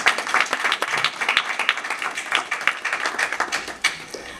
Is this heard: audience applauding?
yes